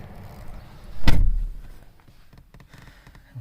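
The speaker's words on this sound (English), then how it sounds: "Gonna put down the windows here a little bit" Power windows lowering on a 2012 Chevrolet Cruze RS with a 1.4-litre turbo engine, parked with the key on: a sharp thud, then a short, moderately loud whirring motor hum that fades, with faint mechanical ticks afterward.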